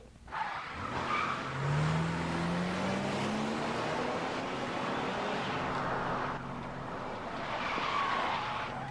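A police patrol car revs and speeds through a chase, its engine rising in a long sweeping pitch with tire noise, loud and close and continuous throughout.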